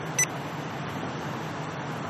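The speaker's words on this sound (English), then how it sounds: "I heard a beep" A single short electronic beep near the start from a Potensic D60 GPS drone's transmitter, then steady background hum with no other distinct sounds.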